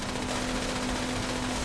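Rapid, dense gunfire in the post-apocalyptic game Fallout 76 sounds as one loud, unbroken burst with a steady hum underneath, close and filling the whole moment.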